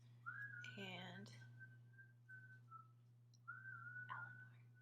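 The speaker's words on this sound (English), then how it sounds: "can you stop whistling?" A person whistles a thin, wavering tune in short phrases with pauses, close by over a steady low electrical hum, with a brief burst of speech cutting in near the start.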